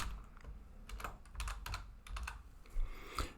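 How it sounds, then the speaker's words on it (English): Keyboard typing at a desk while filling in a sole proprietor payroll loan application, quick irregular bursts of keystrokes with short pauses, fairly close and moderately quiet, no talking. "Excuse my typing."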